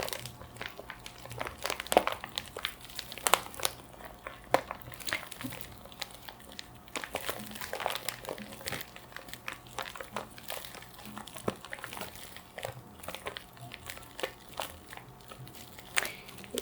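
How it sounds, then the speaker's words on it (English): Plastic crumpled and crinkled close up as a foley stand-in for fire, giving a quiet, dense stream of irregular crackles and pops that runs on steadily throughout. "Did you get that was a plastic sound?"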